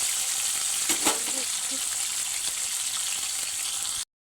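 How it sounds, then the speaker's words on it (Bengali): Potatoes sizzle steadily in hot oil in a pan for a Bengali home-cooked meal, a close, continuous crackling hiss with a couple of brief clinks of a utensil, and the sound cuts off abruptly near the end. "আলুটা ভাজা হয়ে যাচ্ছে"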